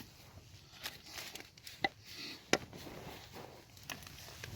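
Quiet chopping of food on a small chopping board at a wild camp, a few soft irregular knocks with one or two sharper taps against faint outdoor background.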